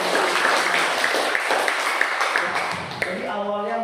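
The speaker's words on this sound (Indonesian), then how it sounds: "Berikan tepuk tangan." Classroom audience clapping during a student presentation, a brief burst of scattered hand claps close by that fades out after a few seconds as a voice starts to speak.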